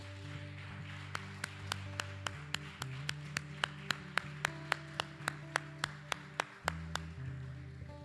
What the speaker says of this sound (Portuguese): Glorifique o Senhor com as suas palmas.